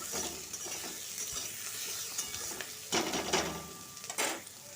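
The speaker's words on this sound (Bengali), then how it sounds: "প্রথমে আলুগুলো ভেজে নেব পেঁয়াজগুলোর সাথে আলুগুলো ভাজা হয়ে যাবে" Potatoes frying with onions in a pan, a steady close sizzle with occasional stirring scrapes and clinks of a utensil against the pan.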